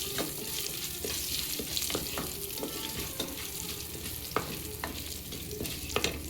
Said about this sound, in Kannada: ಆಮೇಲೆ ಒಣಮೆಣಸಿನ್ಕಾಯಿ, ಇದನ್ನೊಂಚೂರು ಕೈ ಬಾಡಿಸ್ಕೊಳ್ಳಿ ಇದನ್ನು ಎಣ್ಣೆಯಲ್ಲಿ.